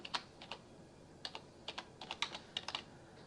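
Typing on a computer keyboard, quiet irregular clusters of light clicking keystrokes in short bursts, close and alone.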